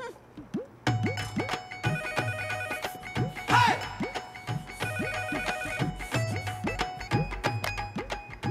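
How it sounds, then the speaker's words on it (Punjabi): A telephone rings repeatedly in a home, a steady electronic ringtone pattern of chirping tones repeating in bursts, loud and close with no talking over it. "ਆ ਫੋਨ ਚੱਕੋ"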